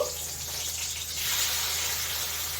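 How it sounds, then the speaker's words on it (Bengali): Taro (kochu) frying in oil makes a steady hissing sizzle that swells slightly partway through and carries on at a moderate, even level. "এই যে এইটা ভেজে নিয়ে কচুগুলো ভেজে নেবো এই তেলে"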